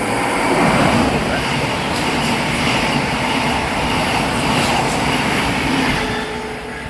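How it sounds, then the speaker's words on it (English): A Thameslink passenger train passing through Welham Green station on the East Coast Main Line, a steady loud broadband rumble and roar sustained throughout, easing slightly at the end. "Something's coming through here. It's a Thameslink"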